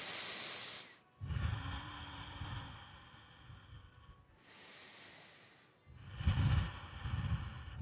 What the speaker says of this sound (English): See if you can slow your breath down.